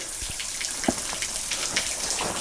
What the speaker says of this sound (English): We've got a miniature waterfall